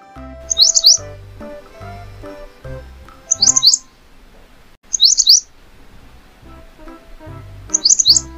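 A bulbul gives four short, bright chirping calls at regular intervals, crisp and close, over soft background music.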